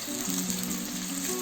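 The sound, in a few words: sliced onions frying in two tablespoons of oil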